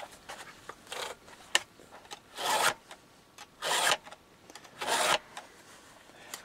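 A hand file rasps across chainsaw teeth during manual sharpening, making about four distinct, evenly spaced grinding strokes with short faint scrapes in between. The strokes are close and clear, with no voices.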